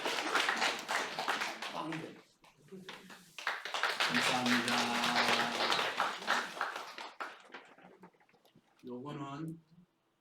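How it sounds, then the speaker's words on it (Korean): A church congregation claps under and between a man's speech, with the clapping swelling in the middle and then fading as he keeps talking. "박수하겠습니다."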